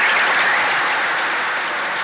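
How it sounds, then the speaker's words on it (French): Dense, loud applause from an audience, a continuous wash of many hands clapping close by with no gaps and no talk over it. "Voilà, je vous demande d'applaudir."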